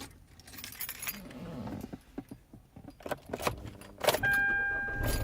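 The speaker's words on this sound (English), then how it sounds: "Car starts right up." A 2013 Kia Soul that had been failing to start: keys jangle and clink near the ignition, then the engine catches with a sudden loud burst and settles into a steady idle.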